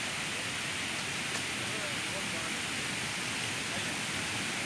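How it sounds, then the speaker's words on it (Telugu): Continuous broadband roar of falling water at the Kaigal waterfall in Chittoor district, an even, unbroken hiss heard from a short distance with nothing else standing out. "దగ్గరలోనే జలపాతం ఉన్నట్టుంది నీటి సవడులు వినిపిస్తున్నాయి"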